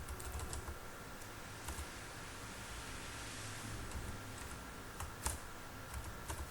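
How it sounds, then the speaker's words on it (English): Quick, light keystrokes on a computer keyboard as a command is typed, a soft, close clicking patter over a steady faint hiss. "I will type this command df.dtype."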